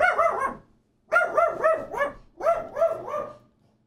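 A dog barks in three short bursts of two or three yaps each, close and clear with brief silences between, while a man playing a video game talks to it.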